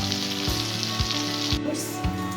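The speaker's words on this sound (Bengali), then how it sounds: "মাছগুলো সুন্দর মতো যাতে একদম ভিতর পর্যন্ত সুন্দর মতো ভাজা হয়, সেই জন্য আস্তে আস্তে ভেজে নেব" Fish frying slowly in oil in a pan, with a soft, steady sizzle broken by regular low thumps about every half second.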